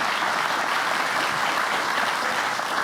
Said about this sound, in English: I want to give a round of applause to you for having done it.